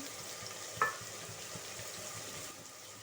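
Green chillies and bay leaves frying in oil for a mutton curry, a faint steady sizzle with one brief sharp tick near the start.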